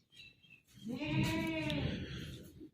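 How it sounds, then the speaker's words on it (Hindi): A hungry goat bleats for fodder in one drawn-out, wavering cry, preceded by a short softer call, close by and fairly quiet. "अभी बकरी को भूख लगी हुई है, चारा मांग रही है।"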